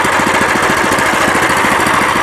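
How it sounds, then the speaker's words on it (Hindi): A waterproof R-750 power tiller engine runs loud and close with a steady rapid knocking rhythm, its pounding firing pulses continuous while water is poured over the machine. "वाटर प्रूफ इंजन है, पानी डाल के दिखा रहा हूँ"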